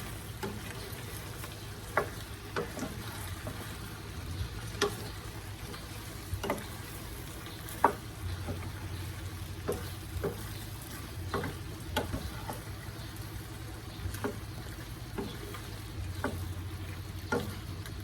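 Chili garlic frying in a pan while being stirred: a steady soft sizzle runs throughout, with scattered light clicks and scrapes of the spoon against the pan, fairly quiet and close, no talking.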